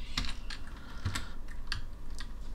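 Crisp keystrokes on a computer keyboard while setting up an After Effects project, a few separate clusters of taps spaced over a couple of seconds, close and clear with no talking.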